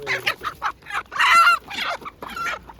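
Several chickens cluck in short, busy bursts close by at an outdoor market in Otyniia, Ukraine, one louder squawk standing out in the middle, with no voices.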